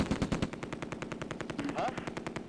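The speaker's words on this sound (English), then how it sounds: "An MG42 opens up." An MG42 machine gun fires in a Close Combat: A Bridge Too Far battle, a rapid, evenly spaced burst of about a dozen sharp shots, loud and sustained.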